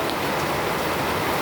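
Heavy rain falls steadily on a rainy, windy day, a dense continuous hiss of drops hitting surfaces, close and even throughout with no pauses.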